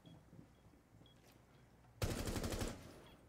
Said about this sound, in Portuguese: vou entrar dando tiro aqui